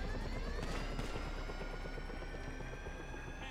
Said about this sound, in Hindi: चल गया ये हेलीकॉप्टर तो नीचे गया